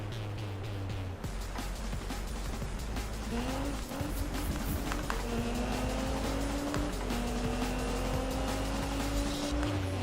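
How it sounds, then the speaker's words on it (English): A video game race car engine revs with rising gear-shift tones and sharp hissing turbo blow-off valve releases, loud and continuous. "the sound of the turbo. The blower valve."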